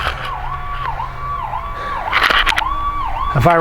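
Wailing fire engine siren arriving at a structure fire, its rising and falling sweeps repeating steadily and loud throughout, with a brief burst of horn or air-horn blasts and rumble near the end.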